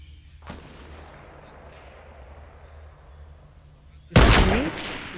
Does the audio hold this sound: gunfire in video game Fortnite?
yes